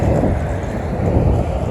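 Strong wind roars into the microphone during a ride through a sandy area in a windstorm, a loud, dense, continuous buffeting rumble that masks everything else for the whole moment.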